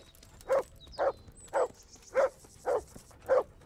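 Six evenly spaced dog barks in the Kingdom Come: Deliverance video game, each a short, mid-pitched woof about half a second apart, standing out over a quiet background with a faint high whine.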